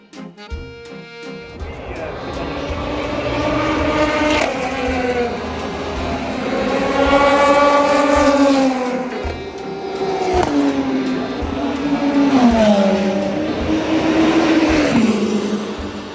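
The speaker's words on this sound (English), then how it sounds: "Race cars over the back there." Race cars roar past at the Le Mans 24 Hours circuit, engines rising and falling in pitch as they pass one after another at a distance, a steady loud drone throughout.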